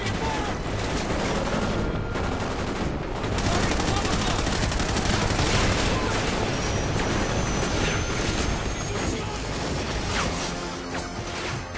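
Gunfire in Call of Duty: Ghosts, dense continuous bursts of shots and explosive cracks forming a loud, unbroken wall of battle noise, with a voice talking intermittently beneath it.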